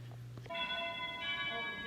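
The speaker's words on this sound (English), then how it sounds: "They have rung the doorbell" A doorbell chimes in two ringing tones, preceded by a brief low hum and faint background sounds.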